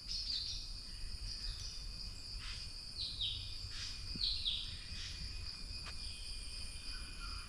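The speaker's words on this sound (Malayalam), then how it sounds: "വളരെ നിശബ്ദമായിട്ട് നിന്ന് കഴിഞ്ഞാൽ കുറച്ച് കിളികളുടെയൊക്കെ ശബ്ദം കേൾക്കാൻ പറ്റും" Birds call from the forest of Thattekkad bird sanctuary beside the Periyar river: scattered short chirps and tweets at moderate distance over a steady insect and cricket drone, with no talk.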